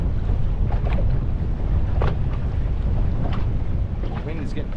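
Strong gusting wind buffets the microphone on a boat on the Brisbane River, a heavy low rumble with water lapping and faint knocks scattered through it.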